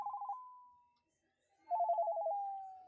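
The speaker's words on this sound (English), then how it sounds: "I then abruptly got a call on my cell phone." A cell phone rings with a warbling electronic tone, two short bursts separated by a pause, each trailing off in a fading hum; faint and fairly close, with no talking.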